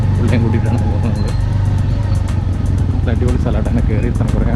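A motorbike engine drones loud and steady while riding up a track toward a waterfall in Wayanad, and someone talks over it the whole time.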